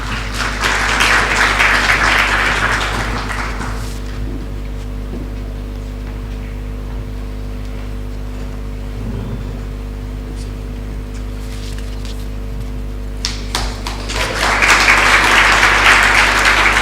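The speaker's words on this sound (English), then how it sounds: "Let's give him a word of applause." Audience applause at an awards presentation breaks out, fades into a quiet hum for several seconds, then a second burst of clapping rises at the end.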